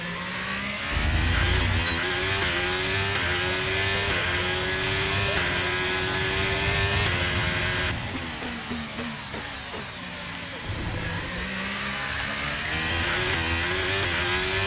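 Formula 1 car engine in a racing video game at the Belgian Grand Prix, on soft tyres, revving high and climbing through gear changes, dropping briefly in pitch before accelerating again, with someone talking over it.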